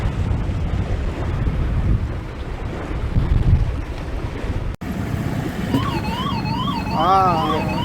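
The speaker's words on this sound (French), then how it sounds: "c'est la VHF, c'est une alarme, panne ou un MD." A sailboat's VHF radio alarm: a warbling electronic tone rises and falls repeatedly over steady wind and engine rumble, following a sharp click.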